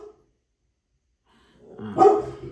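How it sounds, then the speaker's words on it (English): A dog barks once up close indoors, a sharp loud woof rising out of near silence after a short faint sound at the start. "Oh, y'all barking."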